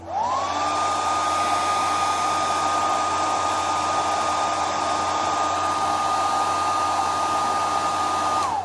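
A handheld hair dryer runs steadily on one setting for about nine seconds, loud and unbroken, blowing over homemade zombie scab makeup made without scar wax or latex.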